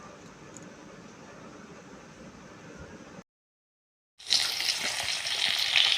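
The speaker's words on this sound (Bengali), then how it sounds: "মাছ ভাজা বসিয়ে দিয়েছি," Two bata fish frying in a pan give a steady, soft sizzle that cuts out briefly, then returns louder and brighter, with no voices.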